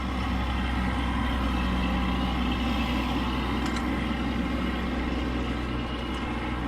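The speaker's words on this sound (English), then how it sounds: "Until that noisy truck quits." A noisy truck engine rumbles nearby in a steady, heavy drone, loud and unbroken throughout with no talk over it.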